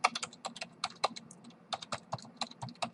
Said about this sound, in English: I'm going to type in the name of my URL